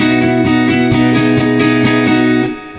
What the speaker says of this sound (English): now I actually meshed together two guitar parts,